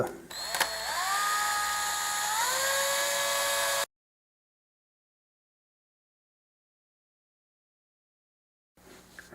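A beveling tool whirs as it works the inside edge of a coin ring, a steady high motor whine with rising pitch shifts for about four seconds, then silence before a brief return.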